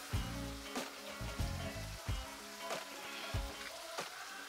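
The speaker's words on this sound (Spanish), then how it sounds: "Echemos ya el arrocito acá." Rice is tipped into a hot pot and sizzles steadily in a busy kitchen, with a crackling hiss and repeated low thumps and scrapes from stirring.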